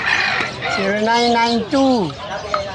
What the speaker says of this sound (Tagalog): Dalawang inahin yan.